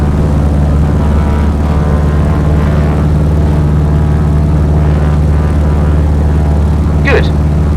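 A Piper Cub's engine at full power during a climb in a flight simulator, a steady, loud droning hum that carries on without a break, with a faint voice speaking over it.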